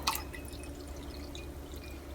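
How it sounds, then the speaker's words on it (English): Prepared orange juice pours into a batch of fresh orange juice, a soft steady trickle of liquid heard faintly and continuously, with a small splash at the start. "I'm going to add already prepared orange juice to my fresh orange juice."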